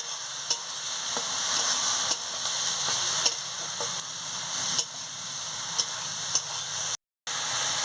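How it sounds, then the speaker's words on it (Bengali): Spice paste of ground mustard, turmeric and chilli powder is stirred in a frying pan as prawns cook, with a steady sizzle and periodic sharp spatula scrapes close by. "দিয়ে ভালো করে মশলাটাকে নাড়িয়ে নিচ্ছি।"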